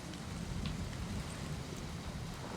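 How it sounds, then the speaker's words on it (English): Rain falls in a steady, soft hiss with scattered drops, a constant outdoor wash that stays fairly quiet and even. "can I record the rain?"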